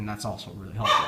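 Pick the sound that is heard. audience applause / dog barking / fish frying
dog barking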